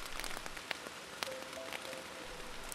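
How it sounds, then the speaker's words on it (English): Steady rain falling on the ground and vegetation of an open countryside landscape with grazing cattle, a continuous hiss with a few louder drops and faint tonal bird calls in the background. "It is raining."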